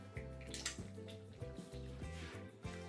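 Water poured into a makhani-style gravy for paneer dolma, heard as soft splashing and dripping over quiet background music, with no speech.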